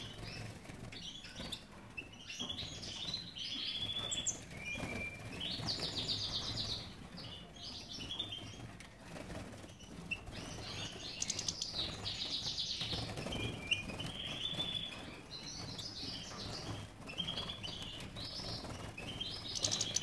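Caged goldfinches chirp and twitter continuously in a steady chorus, with occasional soft wing flutters, close by and fairly quiet.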